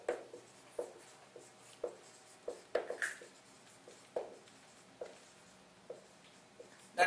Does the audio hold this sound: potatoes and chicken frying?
no